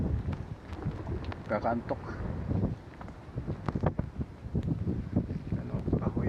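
Wind blowing outdoors near a seaside village, a steady rushing bluster buffeting the microphone beneath a voice as he talks close by.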